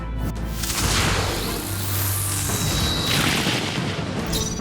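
A fire spell attack in Metaphor: ReFantazio erupts as a loud, rushing whoosh with a deep booming rumble and a sweeping hiss that swells and fades, with no talk over it.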